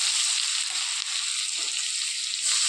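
Onion added to hot frying oil, a close, steady hissing sizzle with a small clatter partway through.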